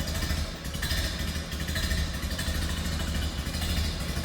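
A 1930 Ford Model A Tudor sedan's engine idles steadily, a low, even mechanical thrum with light clatter running throughout at moderate level, with no voices.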